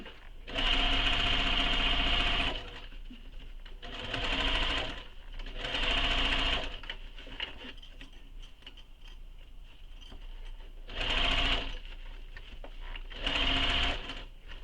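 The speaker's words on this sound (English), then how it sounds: "now to sew the base, or the lining to the gusset" A sewing machine stitches bag lining to the gusset in repeated bursts of fast rhythmic whirring, with short quiet pauses between the runs. The machine sounds close and clear throughout.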